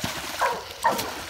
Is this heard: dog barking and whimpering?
yes